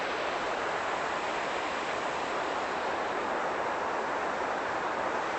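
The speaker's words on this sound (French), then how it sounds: "Donc là on a le Doubs, la rivière. Là il y a un barrage." Water of the Doubs river flows at a dam as a steady, broadband rushing roar. It is constant and even throughout, with no voices over it.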